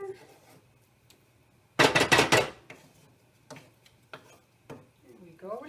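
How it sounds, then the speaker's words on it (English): A spoon scraping and clattering around a pot of Guatemalan soup, one loud burst of rough stirring followed by scattered sharp taps and knocks, close and sparse, with a voice speaking briefly at the end. "And give it a bit of a stir."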